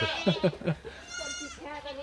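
A goat on a Thai farm bleats in a series of quick wavering calls, then gives a longer drawn-out bleat, close and clear with no voices.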